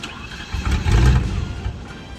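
A Land Rover Discovery I engine cranks and catches, rising to a loud rumbling idle that swells near the middle and then settles steadily, close by with no talk.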